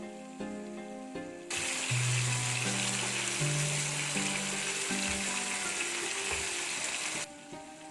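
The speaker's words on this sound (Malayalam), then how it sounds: "ലോ ഫ്ലെയിമിലിട്ട് പൊരിച്ചെടുക്കുന്നതാണ് നല്ലത്" Fish fries on a low flame on a wood-fired stove, giving a loud, steady hiss and sizzle that begins after a second and a half and stops near the end, with background music playing throughout.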